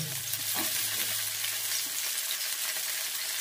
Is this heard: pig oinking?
no